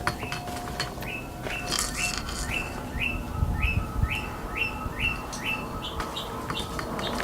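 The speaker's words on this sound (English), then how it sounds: "the birds are tweeting in here, so that's a good sign" Inside an abandoned building in a Girvin, Texas ghost town, a bird gives a steady run of repeated bright chirps at a regular pace, with some faint clinks and rustling in the room.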